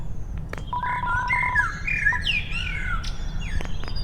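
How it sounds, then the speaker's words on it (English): Birds chirp in the Deltarune video game, a string of bright, clear tweets and short warbling calls in quick succession over a low, steady background hum. "Yeah, from the game I hear birds."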